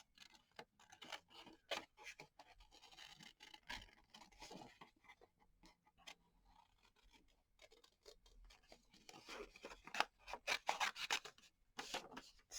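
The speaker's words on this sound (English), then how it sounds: "And I will get my handy dandy scissors." Scissors cut through paper on a craft table, a faint close series of irregular snips and rustling rasps repeating throughout, with no talk.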